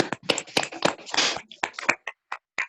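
A small group of students clap for a classmate in a class lecture, giving a few scattered, uneven claps and taps that thin out into isolated single claps near the end.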